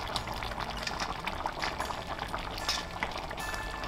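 Eggs cooking in a pan of boiling water make a constant bubbling, rolling churn up close, with no voices over it.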